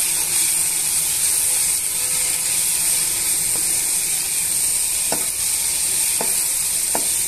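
Salted, spiced food in a pan sizzles steadily while it is stirred and mixed, with a bright hiss and several distinct clicks and scrapes of the spoon against the pan near the end.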